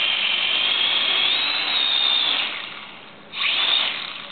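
Small drone propellers spin up for manual flight with a steady, loud, high whirring buzz. It dips briefly near the end, then surges back as the throttle rises.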